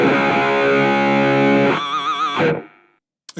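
A gritty, distorted electric guitar chord from a Nux Mighty Lite BT II desktop modelling amp on a Friedman amp model rings out, then wavers and fades with a slight warble before cutting off.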